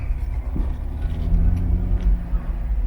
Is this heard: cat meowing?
no